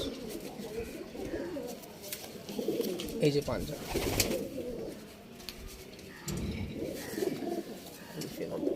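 Beating pigeons at a home loft coo softly among a flock, low murmuring calls rising and falling throughout, with someone talking over them nearby.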